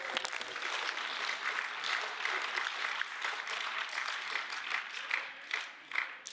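Members of the European Parliament applauding and cheering in the plenary chamber, a dense steady wash of clapping from a large crowd that holds for several seconds at moderate volume.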